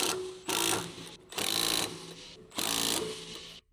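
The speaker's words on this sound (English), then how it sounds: "Use a 13mm deep socket with the impact wrench to tighten the strut mount nuts." Impact wrench with a 13mm deep socket tightening strut mount nuts on BMW E46 325ci coilovers, firing in three loud, close rattling bursts separated by short pauses.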